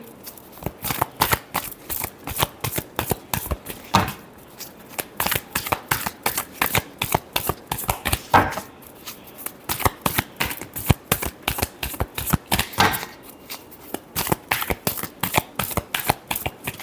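Tarot cards are shuffled over and over in quick, close riffling bursts with short gaps between them, loud and crisp with no talk.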